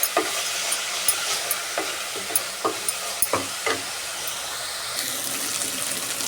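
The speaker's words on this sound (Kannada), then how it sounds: "ಹೀಗೆ ಇದನ್ನು ಸ್ವಲ್ಪ ಫ್ರೈ ಮಾಡ್ಕೊಳ್ಳಿ" Ghee rice ingredients frying in hot oil and ghee in a pan, a continuous sizzle broken by a string of sharp clinks and scrapes from a stirring spoon, heard alone and up close.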